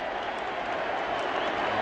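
Baseball stadium crowd at the 1986 ALCS Game 5 between the Red Sox and Angels, a steady wash of murmuring and scattered applause heard briefly from a distance.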